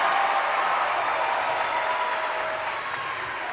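Dense, steady applause from a high school volleyball crowd on its feet, fading slightly toward the end of the burst.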